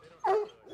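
Foxhounds kept at a hound club ranch, one bark or bay rising sharply in the middle, close and fairly loud, with fainter yips and whines before and after.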